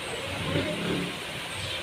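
Steady car and engine noise from vehicles passing on a street during damp, drizzly weather, a continuous mid-level rumble with a slight swell partway through and no talk.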